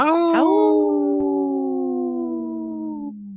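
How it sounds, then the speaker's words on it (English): One long, steady canine howl rises briefly and then holds an even pitch for about three seconds before cutting off, loud and close, with a dog answering a played wolf howl on a radio show. "The Howl called my dog over here, so she's ready to join the pack."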